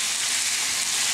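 Steaks frying in a pan, a loud, dense, continuous sizzle with crackling hiss, heard close up and alone.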